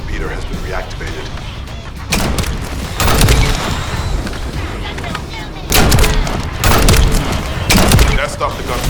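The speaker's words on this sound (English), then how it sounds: "That stopped the gunfire." Heavy gunfire and booming blasts in the shooter video game The First Descendant, loud bursts of shots and explosions rolling in waves throughout, with a voice speaking over parts of it.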